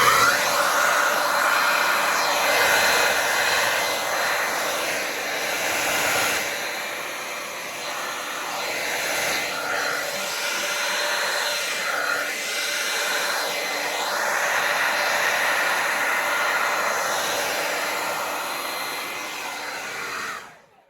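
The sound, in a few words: hair dryer blowing paint off the canvas edge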